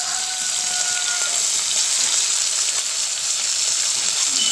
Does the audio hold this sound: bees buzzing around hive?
no